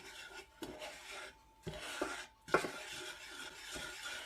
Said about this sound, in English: I can still feel the grit of the sugar as I'm stirring